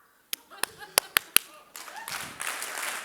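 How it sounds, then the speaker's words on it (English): A speaker addressing a young audience claps sharply about five times in a quick, uneven series, close and crisp, to quiet the room; afterward a soft murmur of voices and shuffling rises. "don't make me clap"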